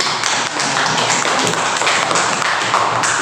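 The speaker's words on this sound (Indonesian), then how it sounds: "Tepuk tangan untuk kelompok 1. Ayo tepuk tangan." A class of students applauds group 1 in a classroom, dense continuous clapping filling the room evenly and fairly loud throughout.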